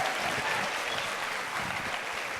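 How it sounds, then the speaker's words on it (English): An audience at a STEM education event claps in a dense, continuous wash of applause that fills the whole moment, loud and close, with no distinct voices. "Give them a round of applause."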